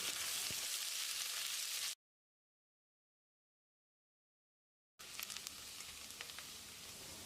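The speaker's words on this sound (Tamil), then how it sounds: "இதை போட்டு பொன்னிறமாக வதக்கிடலாம்." Steady crackling sizzle of onions frying in a hot pan for mutton curry, broken by a few seconds of total silence before the sizzling resumes.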